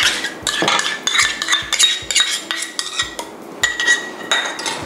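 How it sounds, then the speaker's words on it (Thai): Cream cheese being whisked together with yogurt for a strawberry cream cheese tart, a whisk clinking and scraping rapidly against a bowl in a steady close rhythm with no talking. "นี่ก็ตีให้เข้ากันค่ะ"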